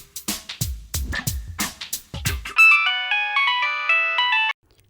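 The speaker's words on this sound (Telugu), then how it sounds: "గంగ ఫోన్ ఎంతకీ కలవట్లేదేంటి?" A mobile phone ringtone plays an electronic melody of repeating tones, clear and close, after a run of short dialing or keypad-like bursts.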